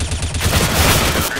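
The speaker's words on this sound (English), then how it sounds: "You were just shooting a wall then." A rapid automatic rifle burst in Counter-Strike: Global Offensive, a dense close rattle of shots lasting about a second, loud and alone.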